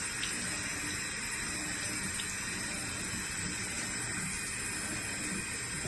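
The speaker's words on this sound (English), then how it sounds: "Just rinse it with tap water." Tap water runs steadily from a faucet while a pool water lab testing kit is rinsed beneath it, a constant, fairly quiet rushing hiss with no talk.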